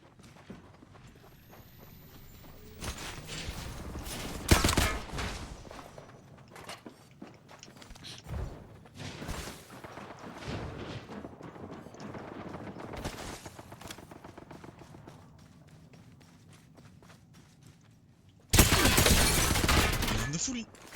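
Gunfire from the Apex Legends video game, including a Nemesis weapon, crackles in bursts through the match, with dense volleys near the start and end over game noise and someone talking.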